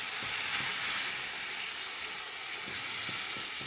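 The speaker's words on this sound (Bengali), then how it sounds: "হয়ে গিয়েছে কষা, এবার আমি জল ঢেলে দেবো।" Water poured into a pan of hot, spice-fried hilsa curry with drumsticks gives a steady hissing sizzle that swells briefly and then settles into a soft, continuous steam hiss, close and alone.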